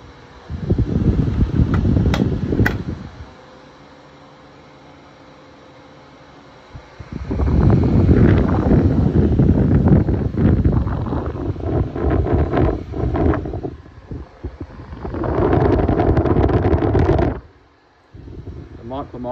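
A Dyson 16-inch white and silver pedestal fan and a 2003 Micromark 30-inch white tower fan run on high, producing loud, rushing airflow that swells and drops between stretches of near quiet, with some speech.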